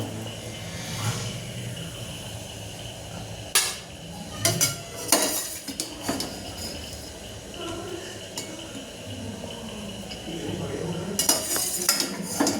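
Cooked vegetables, including beetroot, are scooped out of a pot for soup, with metal spoon scrapes and clinks against cookware in irregular bursts over a soft background hum.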